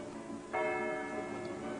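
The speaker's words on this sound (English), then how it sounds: "if you make a wish when the bells are chiming, that it will surely come true" Church bells on an island in Slovenia chime with a single struck tone that blooms and rings on, faint and somewhat distant over a steady background hiss.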